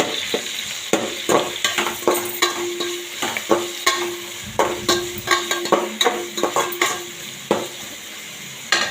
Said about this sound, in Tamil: ரெண்டு தக்காளி போட்டு வதக்கிக்கிறேன்